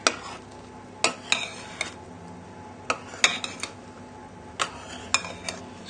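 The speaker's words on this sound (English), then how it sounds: "take a spoonful of the whites and put it into the mushroom yolk mix. And then we're going to just gently fold this together" A spoon gently folds egg whites into a mushroom and egg yolk mixture for a twice-baked mushroom soufflé, giving light, scattered clinks and taps against the bowl, spaced irregularly with soft scraping between them.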